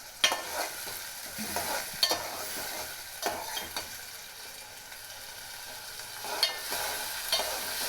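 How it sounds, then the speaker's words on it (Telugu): Sliced tomato and curry leaves are stirred in a frying pan, a soft steady sizzle broken by several sharp scrapes and clacks of the spoon against the pan. "ఇప్పుడు వేసి మొత్తం మిక్స్ చేయాలి"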